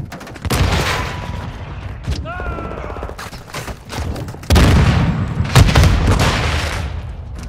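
Heavy booms and gunfire in Call of Duty: Modern Warfare II multiplayer, with a loud blast around the middle followed by dense rumbling bursts, likely a grenade explosion amid other combat noise.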